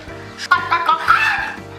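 A hen clucks in short, bright bursts over a low steady backing, the calls close and fairly loud.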